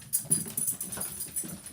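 A dog pants and whimpers softly, with quick uneven breaths and faint whines over a low background murmur, no voices.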